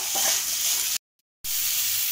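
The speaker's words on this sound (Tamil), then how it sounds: "இப்போ இந்த கிழங்கு ஆட் பண்ணிக்கலாம். ஹை ஃப்ளேம்லேயே வச்சுக்கோங்க, நல்லா கிளறி விடுங்க." Yam pieces fry on high flame with a steady, loud sizzle and stirring, cut by a brief silent gap before the sizzling resumes.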